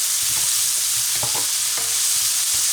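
Mushrooms frying in melting butter and bacon fat for a smoked ham and bacon hash make a loud, continuous close sizzle, with a few soft utensil scrapes and no talking.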